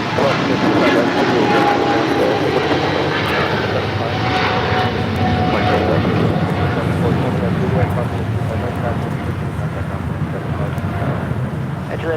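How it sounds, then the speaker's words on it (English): A LATAM Boeing 777-300ER jet takes off at LAX bound for Sao Paulo, a loud, continuous engine roar with heavy low rumble and wind buffeting, while people talk over it. "This is Latam Airlines 8087 taking off to Sao Paulo on 777-300ER."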